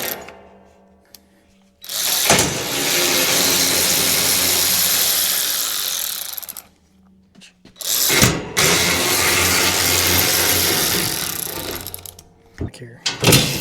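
A ratchet loosens bolts on a 1070 tractor's alternator: two long stretches of rapid, buzzing clicking, each lasting several seconds, separated by a short pause and ending with a few brief clicks.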